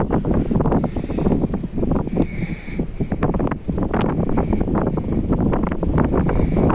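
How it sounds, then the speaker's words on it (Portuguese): Strong gusty wind buffets the microphone at a harbor where ships are docked, a loud continuous roar with rustling bursts throughout. "esse vento é muito forte mesmo"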